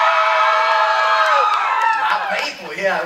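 Comedy club audience at a stand-up showcase roaring with cheers, whoops and shouts, a loud continuous wall of crowd noise that stays dense for the whole moment.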